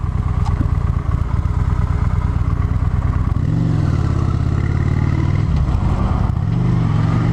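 A cruiser motorcycle idles loudly up close, then its engine note rises and falls as it pulls out onto the road, a steady rumbling throb throughout.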